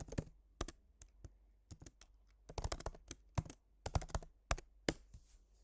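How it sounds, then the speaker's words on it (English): Fingers type on a computer keyboard on a Mac, entering an Apple ID in short bursts of sharp, close key clicks separated by pauses, with no talking. "Now we just need to type in our Apple ID."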